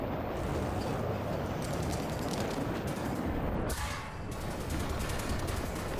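Tank cannon fire in the War Thunder video game, a loud boom that erupts partway through over a dense, constant roar of battle noise, with further crackling shots following.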